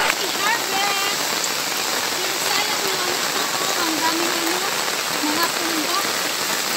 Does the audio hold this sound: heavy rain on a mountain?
yes